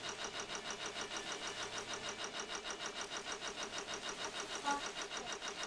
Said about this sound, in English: Like the sound of the engine.